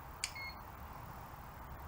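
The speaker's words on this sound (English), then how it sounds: "Flick the switch up until you hear a beep." A single short electronic beep sounds from the switch of a Hatsan Gladius .22 air rifle, followed by a couple of faint clicks over a quiet background.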